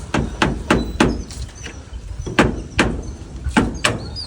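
A hammer drives nails into wood while a chicken coop is turned into a quail coop. About nine sharp, close strikes come in uneven bursts with short pauses between them.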